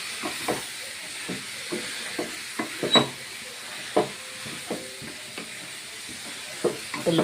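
Potato and broccoli pieces fry in oil for a curry, with a soft hiss under scattered clinks and scrapes of stirring spaced irregularly through the clip.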